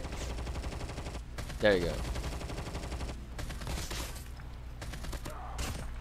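Video game gunfire plays at low level from a mobile gaming stream, several bursts of shots and rattling fire scattered through the clip, with a brief spoken remark in between.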